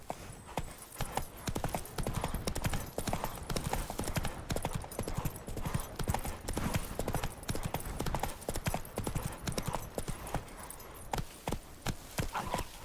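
Rhythmic clip-clop of Roach the horse galloping across the world of The Witcher 3, hooves pounding steadily and close throughout, with the occasional snort or whinny and no talk over it.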